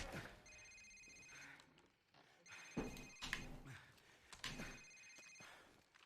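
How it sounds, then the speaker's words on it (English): Cell phone ringtone in Call of Duty 4: Modern Warfare, repeating electronic ring bursts in a steady rhythm, fairly faint, with game sound effects between rings. "Sir, it's his cell phone."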